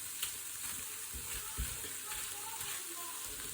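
Gnocchi (Schupfnudeln) stir-fried with sausages and winter vegetables in a pan, a soft, steady sizzle with a few faint stirring scrapes, fairly quiet and continuous throughout.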